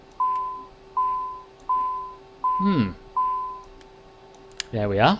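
Cockpit alarm in a Citation CJ4 in Microsoft Flight Simulator 2020, a steady tone beeping five times at a regular pace, with brief talk in between and at the end.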